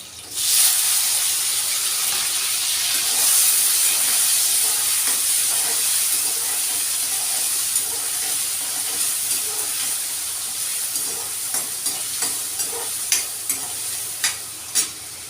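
Tomatoes hit a hot pan for cabbage bhaji and sizzle loudly and steadily, with a broad steamy hiss and occasional sharp crackles and pops toward the end, no voices.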